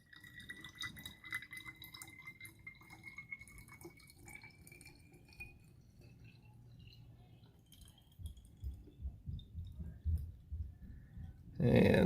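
A liquid STS solution is poured carefully into a bottle, giving faint dripping and trickling with glassy ringing, followed by heavier sloshing toward the end and a loud rustle at the close.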